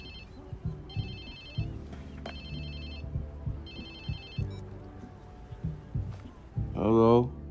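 A phone rings in the video game Watch Dogs 2, repeated electronic ring bursts in a steady pattern under ongoing speech and background sound, ending with a louder vocal sweep.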